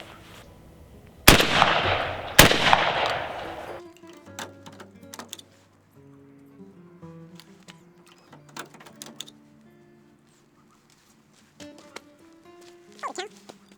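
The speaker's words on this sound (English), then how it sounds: "This is shot number 8." A shotgun fires a reloaded Aguila hull, two sharp loud reports about a second apart, followed by quieter mechanical clicks and handling noises.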